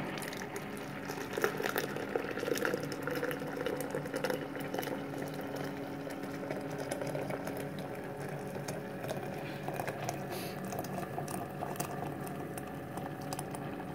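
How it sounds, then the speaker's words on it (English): Continuous bubbling, gurgling water sound with steady density throughout as boiling water is poured into a French press over coffee grounds, with faint clinking mechanical bits. "I'm going to fill it with boiling water."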